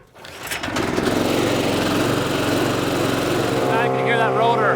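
Split-Fire 4090 wood chipper with a Loncin small gasoline engine, running loud and close at steady throttle after a quick rise, a continuous buzzing drone that holds without a break.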